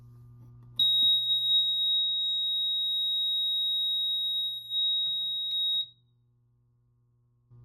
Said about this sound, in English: when the piezo sounds on a supervisory condition, it is non-silenceable